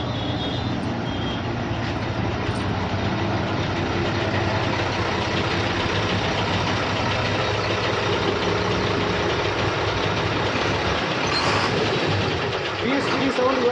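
A vehicle engine runs loudly and steadily nearby with a continuous low rumble, and people talk over it throughout.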